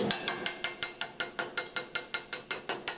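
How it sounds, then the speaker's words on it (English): Slag being chipped off a Lincoln 7018 stick weld on carbon steel, a steady run of about sixteen sharp, evenly spaced metallic clicks over three seconds, close and fairly quiet, with no talking. "let's remove the slag and see what we've got"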